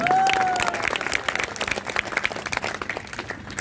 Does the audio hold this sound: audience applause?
yes